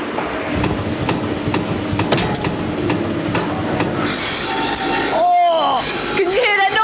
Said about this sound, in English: It's really screechy, isn't it? This is a filing machine. It cuts off tiny bits of metal to make the fork pointy.